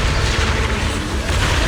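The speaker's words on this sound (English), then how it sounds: "Move in during the gaps between explosions." Rumbling explosions in the video game Zenless Zone Zero during a boss fight against a cocoon, a dense continuous low boom and roar filling the whole stretch with no clear gaps.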